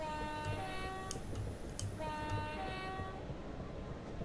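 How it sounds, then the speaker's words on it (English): A passing train in the Train Simulator 2017 game on the North London Line gives off a rumbling roll with rhythmic wheel thumps and sustained tonal horn-like notes, fairly loud and steady, then fading toward the end. "Another train coming the other way."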